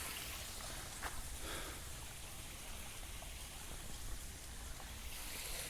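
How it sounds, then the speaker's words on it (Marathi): Faint, steady patter of light rain, a soft even hiss with occasional drips, no voices. "रिमझिम पाऊस"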